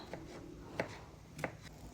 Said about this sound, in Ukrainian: Дрібно нарізаю цибулю, а також печериці.